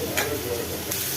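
Garlic, ginger and cashews sautéing in a pan, a steady close sizzle with a couple of brief bright hiss bursts as the pan is stirred.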